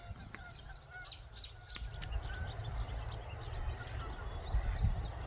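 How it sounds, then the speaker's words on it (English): Canada geese call in a series of short honks while landing on a hilltop above a farm pond, fairly distant and faint over low outdoor rumble, with other birds chirping. "We have some Canadian geese landing up on top of the hill."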